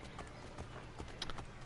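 Horse hooves clip-clop in steady rhythm in Assassin's Creed III Remastered, with a brief whinny, moderately close and fairly quiet, with no talk.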